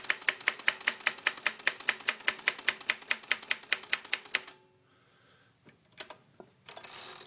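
Steady, brisk keystrokes on a 1960 Royal Model FP typewriter clack close up for several seconds, then stop, leaving a few scattered clicks and knocks.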